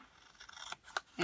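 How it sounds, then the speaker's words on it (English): Scissors snip through stiff cardstock in a few quick, crisp cuts with a scraping rasp, close by and fairly quiet. "let me get my big scissors out and just go ahead and cut up"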